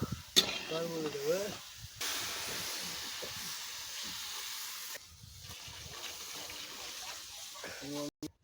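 Potato and soya chunk curry sizzling and hissing steadily in a pan after water is poured in, a broad crackling hiss with brief speech at the start and end.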